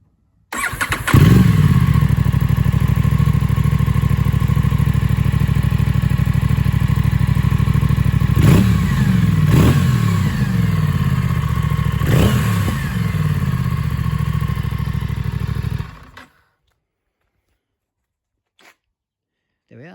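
An Aprilia RS457 motorcycle engine catches on the starter and settles into a steady, close idle, with a few sharp throttle blips, then cuts off abruptly and leaves near silence.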